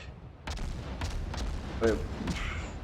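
Benson destroyer guns firing in World of Warships, a string of sharp broadband bursts about every half second over a steady low rumble, with a brief voice-like tone in the middle.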